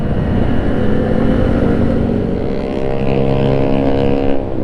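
Motorcycles on a Sunday morning group ride in Jakarta, near Gelora Bung Karno Stadium, drone past loudly, their engine tones rising and overlapping in a continuous close roar, with no speech.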